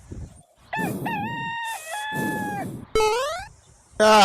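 A rooster crows several times in quick succession, each call a loud, drawn-out, close-up cry separated by short gaps, with background noise between the crows.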